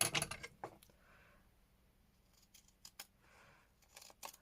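Scissors snip through paper for a handmade Christmas junk journal, a few crisp cuts near the start and again midway, faint rustling between, with no one talking.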